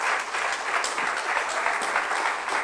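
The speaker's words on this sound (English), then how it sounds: "You can do better with the applause." An audience gives a steady round of applause after a speaker finishes: continuous, moderately quiet clapping from many hands with no talk over it.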